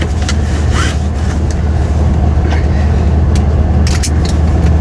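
A Ford F150 engine idles with a lope, a loud, close, steady low rumble with an uneven throb running throughout and a few faint clicks and knocks over it.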